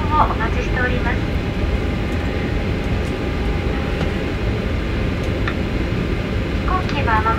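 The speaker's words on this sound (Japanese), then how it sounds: "飛行機は間もなく完全に停止しますが" Steady broadband cabin rumble inside an ANA airliner taxiing after landing at Naha Airport on a flight from Fukuoka, continuous and fairly loud throughout, with a faint chime-like tone near the start and end and no clear speech.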